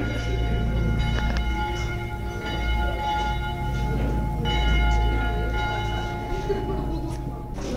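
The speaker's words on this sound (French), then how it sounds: "Ce sont les cloches du petit village de Communies" Bells of a small village church in the Swiss canton of Vaud ring steadily in a continuous, overlapping peal, with a low rumble of background noise throughout.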